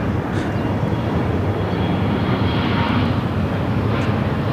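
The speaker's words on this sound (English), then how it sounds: "This United Flight 511 coming in from Chicago on a 737-900." A United Boeing 737-900 arriving at Phoenix from Chicago makes a loud, continuous engine roar that holds level throughout.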